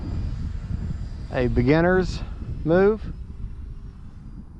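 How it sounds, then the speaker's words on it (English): An electric Timber Turbo RC plane hovers in place. Its motor drones as a steady, moderate whine beneath someone talking. "trying to get your plane to hover still, because you're constantly changing your adjusting your rudder and your ailerons"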